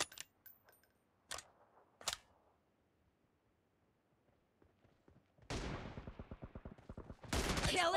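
Gunfire in PUBG: a few sharp isolated shots early on, a quiet pause, then a rapid burst of automatic fire building to a loud close finish.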